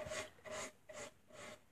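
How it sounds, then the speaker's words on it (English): Paintbrush spreading antique white paint onto a small wooden stool, four steady rasping back-and-forth strokes, close and fairly quiet, with no talking. "you just brush it on"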